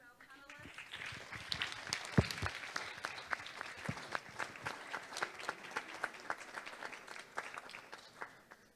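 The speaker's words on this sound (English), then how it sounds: "A round of applause again to our panelists" An audience at a conference Q&A session applauds its panelists, a burst of sustained clapping from a room full of people with sharp individual claps standing out, continuing steadily for several seconds.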